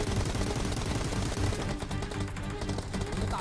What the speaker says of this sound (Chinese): 咱们准备打架，一梭子打中了好几枪。